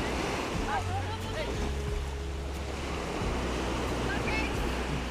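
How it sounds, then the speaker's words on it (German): Ocean surf rolling onto a dog-friendly beach, a continuous roar of waves with wind buffeting the microphone, and faint voices in the distance. "Achtung, große Welle!"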